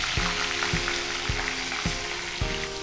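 Sweet corn frying in a pan gives off a steady, dense sizzle, with regular soft knocks of stirring about every half second, close and continuous without speech.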